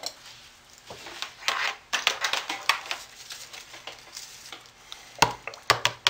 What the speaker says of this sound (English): And then I will hand stir my colors in.